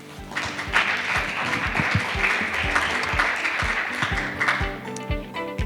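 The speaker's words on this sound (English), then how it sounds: "Please give a warm welcome and applause to Ms." Steady, dense applause from a seminar audience at an Arctic Frontiers event, welcoming the chair to the stage; continuous clapping of moderate loudness with some louder individual claps, tapering slightly at the end.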